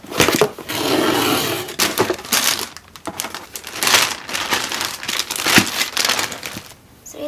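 Plastic packaging crinkles and crushes around a new Three Times Acorn backpack being unboxed, a close, busy run of rustling bursts with brief pauses and no talking.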